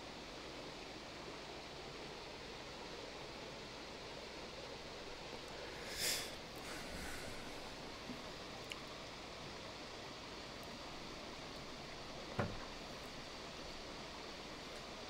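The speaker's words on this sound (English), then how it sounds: "How is the background noise from the waterfall, by the way?" Steady, faint waterfall hiss fills the whole stretch as an even wash of rushing water, with a couple of brief small knocks partway through and no talking.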